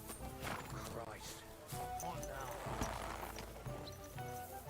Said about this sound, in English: Don't say you can eat a horse right in front of Pebbles